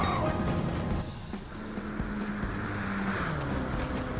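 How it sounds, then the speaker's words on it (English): A Corvette races at Daytona Speedway in Gran Turismo 7, its engine droning steadily with a shifting pitch and a faint whooshing rush of speed, moderately quiet throughout. "we'll come towards the line to win here at Daytona driving the Corvette"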